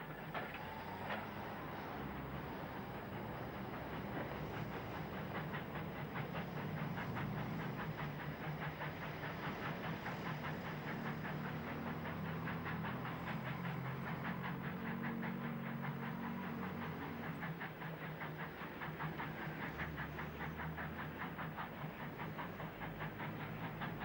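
Peckett-built steam locomotive Henbury works at Bristol docks by the new cut, giving a steady rhythmic chuffing and hiss with rumbling wheels, continuous and fairly loud throughout.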